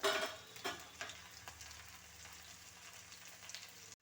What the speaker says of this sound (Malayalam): ഇനി ഇത് നല്ലപോലെ മൂത്ത് വരുന്നത് വരെ ഒന്ന് ഇളക്കി കൊടുക്കാം